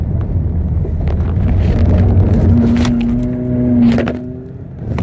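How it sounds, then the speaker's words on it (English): A car drifts around a race track, engine droning loudly under heavy wind buffeting, with a rising tire squeal building and sliding upward before the roar eases at the end. "I just drifted just now"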